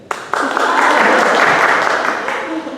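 A church congregation claps together during a Sunday service: one sustained burst of dense, fairly close applause that starts sharply, holds for a couple of seconds, then begins to fade.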